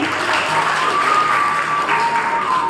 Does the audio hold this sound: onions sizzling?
no